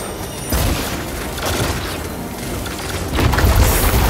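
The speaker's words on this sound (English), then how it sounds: "Grenade!" A grenade goes off in a Destiny-style shooter during a Nightfall strike, a muffled boom that swells at the start and again near the end amid mechanical game noise, with no talk over it.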